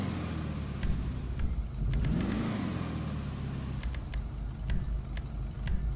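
A car engine in the GTA Online video game hums and revs, rising and falling in pitch near the middle, with scattered light clicks over the steady engine drone.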